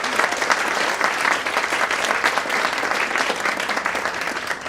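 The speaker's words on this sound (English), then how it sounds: "How about a big round of applause for our panelists, moderator, and keynote speaker" An audience at a Women in Leadership event at Ohio University Eastern applauds its panelists, moderator and keynote speaker with dense, steady clapping that holds at an even level throughout.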